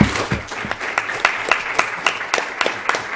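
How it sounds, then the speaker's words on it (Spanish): Applause at a Spanish magazine launch presentation, with distinct individual claps rising from a small audience in a loose, uneven rhythm throughout. "yo creo que os merecéis un aplauso"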